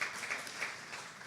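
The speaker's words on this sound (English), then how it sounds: "Give them a round of applause for everything that they're doing out there" At a 2019 graduation ceremony, an audience gives a short burst of dense, soft applause that stays faint and distant throughout.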